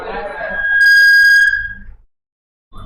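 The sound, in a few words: voice imitating a whistle at a girl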